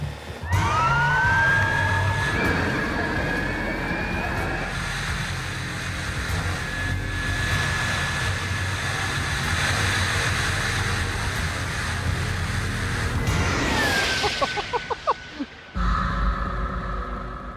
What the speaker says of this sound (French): Quand la sirène s'approche du micro, la fréquence est un peu plus haute. Et quand elle s'éloigne du micro, elle devient un peu plus basse.